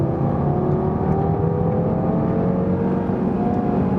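Five-cylinder 400 hp Audi TT RS, 2017, accelerating hard with a little wheelspin, a steady loud engine drone with rising harmonics heard continuously from inside or near the car, no talking.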